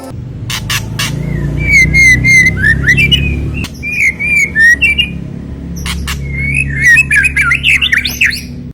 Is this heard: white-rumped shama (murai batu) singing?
yes